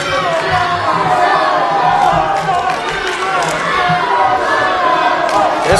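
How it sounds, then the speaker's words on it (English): A pro wrestling crowd at a North West Pro Wrestling show keeps up dense, steady shouting and jeering at wrestler Rook Kelly, with many overlapping voices and no break. "This crowd letting Rook know what they think of him"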